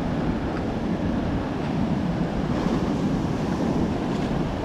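Surf breaking on a beach at Quy Nhon, Vietnam, on an overcast day, a steady loud wash of waves with wind rumble across the microphone, no voices.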